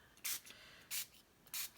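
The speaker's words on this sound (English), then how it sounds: "You can spray it with more spray." Shimmer spray from a pump bottle mists onto a journal page through a stencil in three short, bright hissing bursts, evenly spaced and close, in a quiet room.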